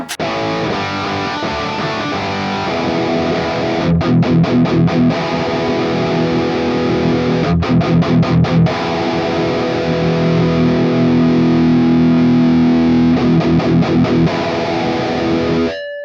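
A distorted electric guitar through a Mesa Boogie Mark IIC+ amp plugin with the bright switch off plays chords with a dull, muted tone, with bursts of rapid strummed chugs recurring between sustained notes.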